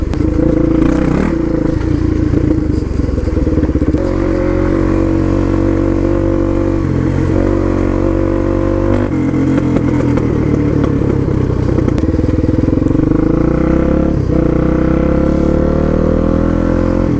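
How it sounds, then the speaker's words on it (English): Suzuki DRZ supermoto motorcycle engine on a mountain hill climb in Utah, a loud, continuous, close-up engine drone that keeps rising and falling in pitch as the throttle changes, with no talking. "Trying to do some hill climbs on the DRZ"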